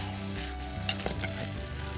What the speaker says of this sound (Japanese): でここでさっと炒めて、ここにトマト入れます